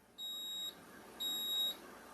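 A deluxe cooking blender gives two clean, high electronic beeps, each lasting about half a second with a short gap between them, heard faintly and on their own when its start button is pressed.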